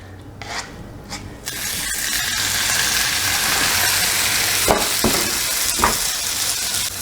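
Hash browns frying in a skillet: after a few quiet scrapes a loud, steady sizzle swells up and holds, broken by several sharp spatula scrapes near the end, close and without talk.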